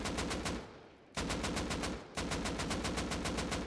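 Rapid automatic gunfire in the video game Rust, with a Razer recoil macro in use, fires in three quick bursts of evenly spaced loud shots, each burst separated by a short gap.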